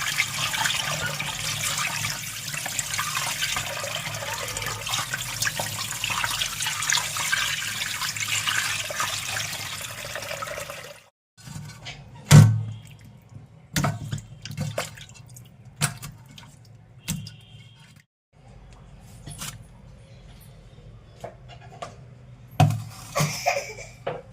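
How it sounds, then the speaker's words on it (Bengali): Rohu fish being washed under a running kitchen tap: a steady close stream of water for about ten seconds, then stops, followed by scattered splashes, drips and handling sounds. "এবার আমি মাছটাকে ধুয়ে নেবো ভালো করে"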